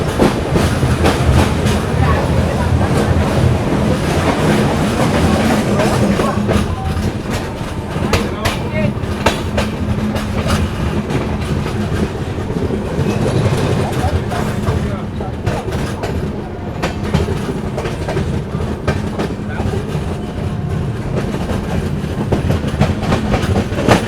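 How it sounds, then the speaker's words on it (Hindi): The 20806 Andhra Pradesh SF Express pulls out of Chandrapur railway station with a loud, continuous rumble and rhythmic clickety-clack of wheels over rail joints, close to the track. "निकल गई ट्रेन अपनी चंद्रपुर रेलवे स्टेशन से"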